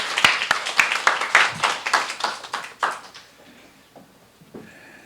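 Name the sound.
church congregation applauding to welcome the pastor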